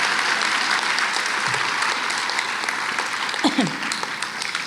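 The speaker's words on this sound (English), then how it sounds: "Let's give both of our teacher nominees a big round of applause." A big round of applause at a history day awards ceremony for two teacher nominees, dense continuous clapping from a large audience with a few faint voices underneath.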